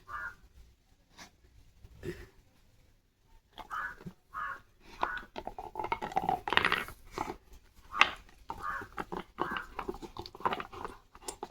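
A dog gnawing on a bone, with irregular crunching and scraping bites, some louder chomps in the middle, and faint voices now and then.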